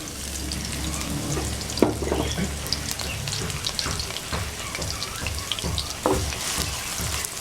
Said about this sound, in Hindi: अब प्याज़ों को फ्राई करेंगे।